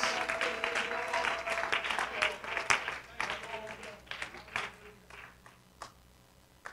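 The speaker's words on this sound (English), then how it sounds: "Why don't we clap our hands to the Lord one more time before we're seated." A church congregation claps hands during a worship service, a burst of applause that is fairly loud at first, then thins into scattered claps, with voices speaking over it.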